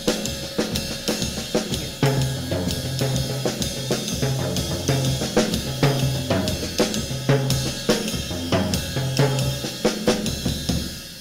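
A drum kit plays a steady swinging groove, kick and snare hits falling in a repeating triplet rhythm with cymbal wash throughout.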